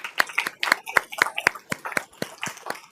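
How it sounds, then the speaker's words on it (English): Scattered clapping from a small group at a county commissioners court meeting, crisp distinct hand claps at an uneven pace, fairly close and loud, with no one speaking over it. "Let's give them a round of applause"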